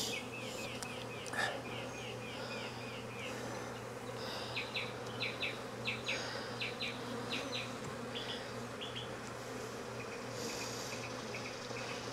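Honey bees buzzing inside an opened hive during an inspection in Jacksonville, Florida, a low continuous drone with individual bees whining past up close in short bursts.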